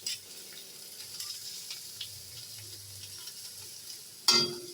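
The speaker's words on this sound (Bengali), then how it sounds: "লাউয়ের খোসাটা যদি এভাবে করলা আলুর সাথে ভেজে খাওয়া যায় তাহলে কিন্তু খেতেও ভালো লাগে" Bitter gourd, potato and bottle gourd peel fry in a pan with a soft, steady sizzle and faint stirring scrapes, ending in a brief louder clatter of the spoon.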